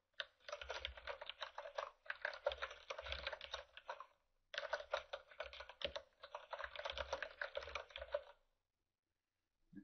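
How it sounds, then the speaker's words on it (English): Typing on a computer keyboard while entering HTML table header text: rapid close clicking in two long bursts separated by a brief pause, ending in silence, with no talking. "I'm going to type the words that I need"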